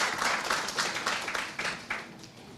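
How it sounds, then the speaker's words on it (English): A smaller audience at a strategic plan launch event applauds a team. Individual claps stand out in a quick, uneven patter that stays moderately close and fades slightly toward the end. "A round of applause for this very important team."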